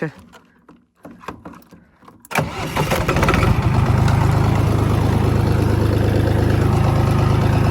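A Chinese-made tractor engine starts with a short crank after some quiet knocks, then settles into a loud, steady close drone as the tractor runs in second gear.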